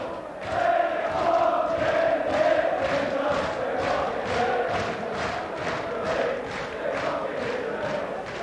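A large football crowd at Goodison Park, thousands of Celtic fans among them, roars and chants steadily through a 1995 Everton v Celtic testimonial match, a broad sustained din with rhythmic surges.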